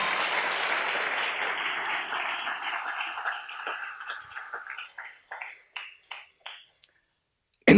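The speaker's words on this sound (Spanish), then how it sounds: "Denle un aplauso al Rey en esta maravillosa y hermosa mañana" A church congregation applauds during a Sunday morning sermon. Steady clapping fades into a slowing run of separate claps, a pause follows, and a sharp burst comes at the very end.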